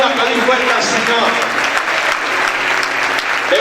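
A church congregation applauds loudly and steadily during a Spanish-language sermon, a dense continuous wash of clapping hands filling the room for several seconds, with voices mixed into the crowd.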